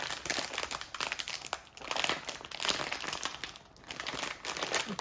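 Crinkly plastic packaging of a mug cake kit is squeezed and tugged, making continuous close crackling and crunching with a few short pauses.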